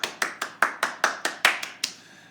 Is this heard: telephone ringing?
no